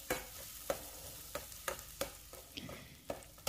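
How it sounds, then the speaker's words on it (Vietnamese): Shallots, garlic and lemongrass fry in hot oil while being stirred, giving a quiet steady sizzle broken by regular scraping strokes of a utensil against the pan, about two per second. "Trong lúc phi thì mình sẽ đảo đều lên"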